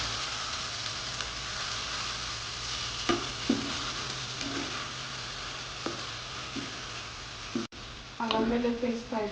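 Prawn fry sizzling steadily in a pan while being stirred, with scattered scraping clicks from the spoon over the constant fizz and a voice talking over it near the end.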